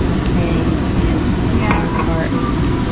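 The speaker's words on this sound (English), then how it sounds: "This is my favorite part actually, you know, the sauteing part." Garlic and onion sautéing in a pan, a steady close sizzle with faint stirring scrapes, continuous and fairly loud.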